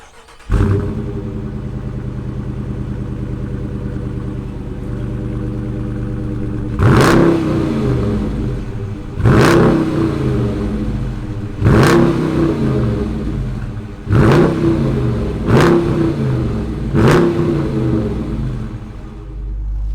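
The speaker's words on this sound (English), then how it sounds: "Let's fire up this Challenger RT and see what it sounds like." A 2019 Dodge Challenger R/T V8 engine cranks and catches into a deep idle, then roars through five sharp revs in a steady rhythm, loud and close.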